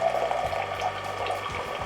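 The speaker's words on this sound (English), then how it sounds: "In about a minute, 8 ounces of rinse water will be dispensed." A Keurig Kold drink maker dispenses rinse water during a Prime and Care cleansing cycle, with a steady pump whir and trickling liquid, close and continuous, with no talking.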